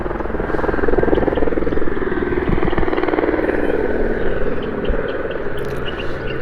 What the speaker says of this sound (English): That's a helicopter, probably going to the hospital